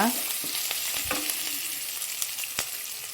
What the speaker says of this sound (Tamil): இப்போ அதையும் நல்லா கிண்டி விட்டுக்கோங்க.